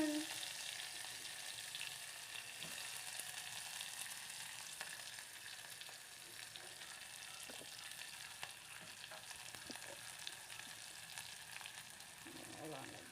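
Chilies and onions fry in a pan with a soft, steady, distant sizzle that hardly changes, broken only by a few faint clicks.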